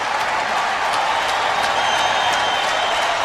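A baseball stadium crowd of more than 45,000 gives a steady, roaring ovation with applause after a Cal Ripken hit for the Orioles, heard from a distance with no talk.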